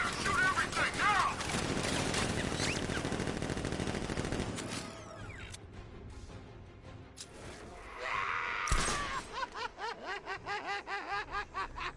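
Rapid gunfire in a shooter game: a dense stretch of continuous automatic shots up front, then scattered single cracks and pauses, with chuckling and voices mixed in toward the end.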